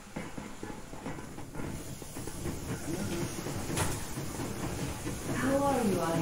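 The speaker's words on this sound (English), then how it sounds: "Yermak, full steam ahead" In the video game Metro Exodus, a steam locomotive hisses and rumbles steadily, a continuous wash of steam noise with rail clatter beneath and a faint tonal whistle near the end; speech is present.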